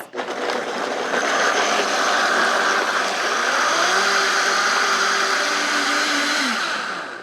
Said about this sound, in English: now I'm gonna puree these